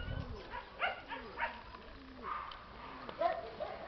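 A mother dog meeting her grown puppy after months apart, giving short barks and whimpering yips with scuffling movement, close by, while people talk quietly underneath.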